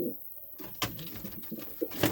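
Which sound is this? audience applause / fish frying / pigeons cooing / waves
pigeons cooing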